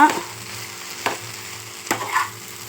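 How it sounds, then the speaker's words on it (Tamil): Ivy gourd fry being stirred in a pan after ground peanut powder is added, with a soft steady sizzle and two distinct scraping strokes of the spoon, close by with no talking. "அந்த தூள் வந்து இதில் ஆட் பண்ணிக்கலாம் ஆட் பண்ணிவிட்டு நல்லா கலந்து விட்டுக்கோங்க"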